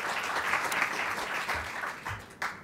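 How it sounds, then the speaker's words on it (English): Audience applauding at a California event for a senior emergency care unit at UC San Diego Health, a steady, fairly close crackle of clapping with slight swells, continuing without talk. "Please give him a round of applause."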